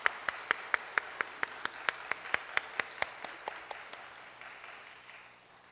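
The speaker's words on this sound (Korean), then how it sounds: "감사의 박수 드리겠습니다." A church congregation claps in thanks during a Thanksgiving Sunday service. The claps land in unison as crisp, evenly spaced beats at a steady quick tempo, fairly quiet, and soften toward the end.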